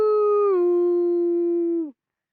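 A dog howls once in a snowy Arctic setting, a single clear sustained tonal howl close by that drops slightly in pitch and then cuts off after about two seconds.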